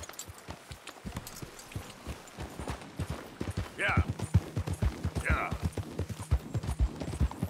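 Horse hooves in Red Dead Redemption 2, a fast rhythmic clip-clop gallop that grows louder and denser partway through, with a voice talking over it.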